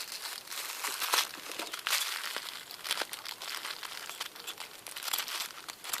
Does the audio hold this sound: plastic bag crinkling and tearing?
yes